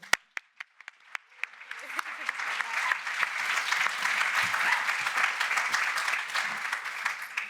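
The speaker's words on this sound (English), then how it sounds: "Please give a massive round of applause for Segun" A few scattered claps build quickly into sustained, enthusiastic applause from a crowd, continuing steadily throughout.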